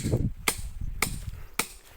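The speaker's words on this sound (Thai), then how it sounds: "ตอกไปเรื่อยๆ" Three sharp, evenly spaced hammer blows pound a stake outdoors. Each is a crisp, close impact over a low background rumble.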